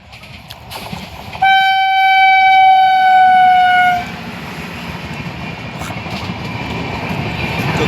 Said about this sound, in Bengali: গাইস ট্রেনটা চলে আসছে